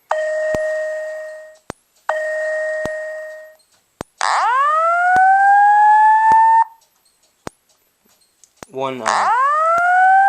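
A Wheelock ET-1080-SLM-24 fire alarm sounds test tones: loud repeated electronic tone bursts with gaps, then rising whooping sweeps, and a single spoken word partway through.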